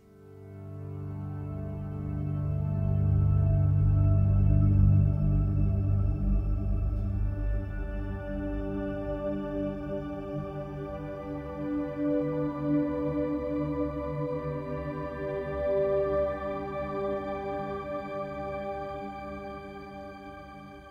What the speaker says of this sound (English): My first effects send goes to the Valhalla DSP Shimmer, which is kind of like a Brian Eno in a box.